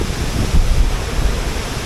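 Savatkada waterfall in the Konkan roars as a steady, dense rush of falling water, loud and continuous with no voices.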